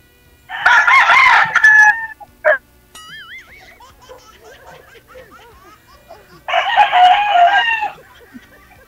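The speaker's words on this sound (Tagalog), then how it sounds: "Ingay talaga ng manok." A rooster crows loudly twice, near and clear, with chickens clucking and cackling softly in between.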